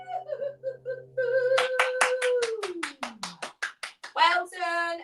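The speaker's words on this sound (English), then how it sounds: "And then give yourself a clap." A small group in a seated dance session claps hands in a quick run of sharp, distinct claps that are fairly close. A voice speaks over the claps, and there is some light laughter.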